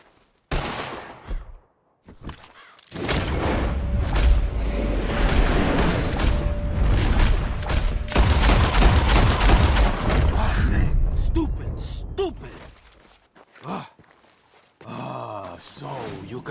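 A dense, sustained volley of gunshots echoes across open country in Red Dead Redemption 2 as players fire at birds, loud and continuous for several seconds, with scattered quieter shots and voices before and after.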